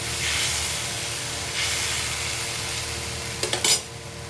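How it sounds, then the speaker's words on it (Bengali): Spice masala of fenugreek seeds, ginger paste, coriander, cumin and turmeric powders frying for a vegetable curry, a continuous hissing sizzle with a few quick clinks of a spoon near the end. "ঝোলটা কষানো হোক, মানে মশলাটা কষানো হোক।"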